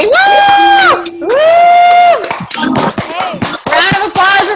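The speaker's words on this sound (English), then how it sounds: "Round of applause for Frankie." Loud whoops and cheers from an audience at a morning call event, with long sustained shouts, then bursts of scattered clapping and yelling close by.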